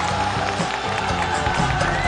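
Studio audience applauding and cheering for a contestant on a Chinese television competition show, a dense continuous wash of clapping and crowd noise filling the whole moment.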